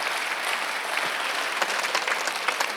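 Church congregation applauding during a Sunday worship service, a steady dense wash of clapping from many hands that holds evenly throughout, with no voices standing out.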